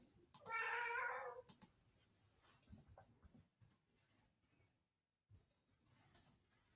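Indoor house cat meowing close by: one long loud meow near the start, then quieter shuffling and small sounds.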